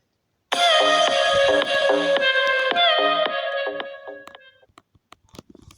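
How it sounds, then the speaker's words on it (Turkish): A phone notification jingle sounds loud and close, a repeating bright melodic chime pattern lasting several seconds before fading out, then a few faint clicks follow. "Evet bildirim sesi geldi."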